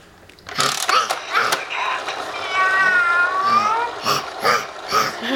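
An adult voice imitates a cat's meow while playing animal sounds with a baby, a drawn-out rising and falling mew near the microphone, set among other short vocal sounds and handling noise.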